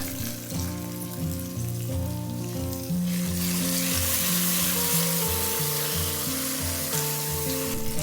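Spice paste with tamarind fries and is stirred in a pan, the sizzle growing suddenly louder and fuller partway through and continuing in a dense, close hiss over a low steady hum.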